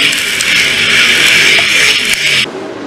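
Late model race cars accelerating at Attica Raceway Park on a single-file restart, a loud sustained engine roar from the pack that drops off abruptly near the end.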